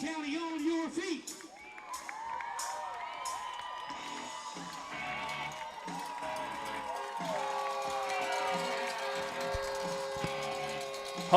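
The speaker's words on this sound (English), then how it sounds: "Home crowd's pretty excited tonight." Home crowd at a Fannin County high school football game, cheering and whooping as the team takes the field, with music playing over it. The roar stays loud and sustained throughout.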